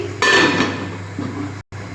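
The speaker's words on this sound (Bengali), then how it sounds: "আমি ঢাকা দিয়ে দিচ্ছি" A lid set down on a pan of simmering mourala fish curry gives one clear metallic clank near the start, followed by a brief fading ring over steady kitchen background noise.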